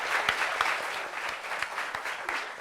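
An audience at a gathering bursts into steady applause, a dense wash of many hands clapping continuously and fairly loudly throughout the short stretch, with no voices standing out.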